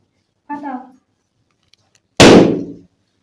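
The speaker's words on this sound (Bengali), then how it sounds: "ভাই কটা বেলুন ফাটাতে পারে দেখি" A balloon bursts with one loud, sharp pop during a balloon-popping game. A short voice is heard just before it, and the rest is quiet.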